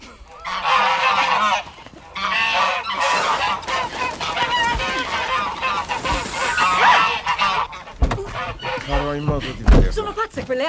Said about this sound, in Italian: Non sono anatre quelle, sono oche